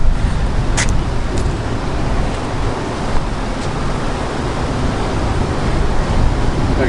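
Wind blowing crosswise over a Rode VideoMicro set up outdoors gives a steady, loud, broadband rush with low rumble and buffeting throughout, without speech.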